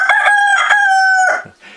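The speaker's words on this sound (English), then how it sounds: "And these are the roosters, by the way." Roosters crow loudly and close by inside a barn, one long harmonic cock-a-doodle-doo broken into several pulses and ending with a short, lower cluck.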